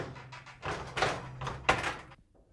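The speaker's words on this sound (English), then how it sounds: "close the door" A fan oven door swinging shut during element replacement, heard as a few close, dull clunks and a firmer thud toward the end, with no talking.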